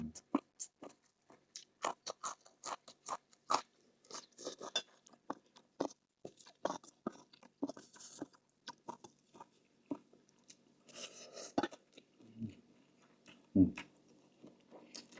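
Someone eating pork bone soup with radish, with soft close chewing, small crunches and light utensil taps scattered through a quiet room, plus a brief murmur of speech.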